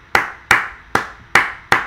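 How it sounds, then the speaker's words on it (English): Five sharp, close hand claps at a moderate, slightly uneven pace, each a crisp snap that decays quickly, with a quiet room between them. "clapping still makes these big spikes"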